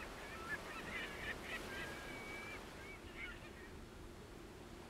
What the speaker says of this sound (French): peut-être aussi un cri lointain d'une mouette ou d'un autre oiseau aquatique.